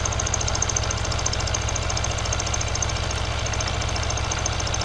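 End mill taking a heavier cut in stainless steel on a milling machine with oil applied, a steady loud machining drone with fast regular chatter and high whine, continuous throughout with no talk.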